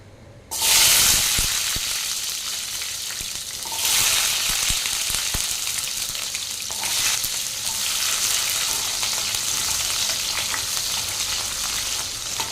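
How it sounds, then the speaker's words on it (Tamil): Peeled small onions hit hot oil in a pan for a Tamil village-style bitter gourd thokku, bursting into a loud sizzle that settles into a steady crackling fry with bursts as they are stirred. "வெங்காயம் வதங்கட்டும்"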